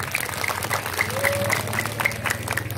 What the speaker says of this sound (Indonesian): Tepuk tangan dulu untuk panitia.